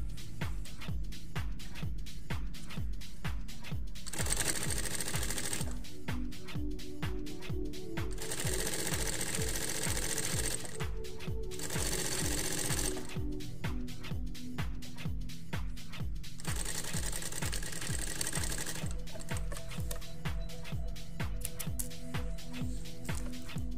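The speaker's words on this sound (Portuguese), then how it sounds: "então costurei aqui um lado" Sewing machine stitching one side of a hidden (invisible) zipper, running in several steady bursts of rapid needle clatter separated by short pauses, close and continuous with no talk.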